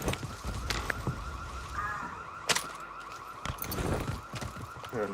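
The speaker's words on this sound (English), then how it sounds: "Heard an alarm." An alarm sounds in the Warzone video game, a steady mid-pitched tone that runs through the whole stretch under busy game noise with sharp bursts and thuds.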